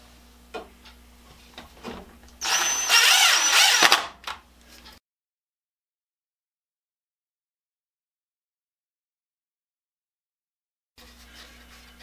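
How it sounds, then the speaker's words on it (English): A power drill drives a screw through a push broom handle in a short loud whir of about a second and a half. Faint clicks come before it, and silence follows. "I just drive the screw through"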